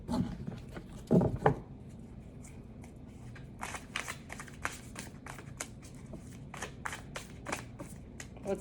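Tarot cards are shuffled by hand in a series of crisp, papery riffles and taps, close and fairly quiet, with a brief louder shuffle early on.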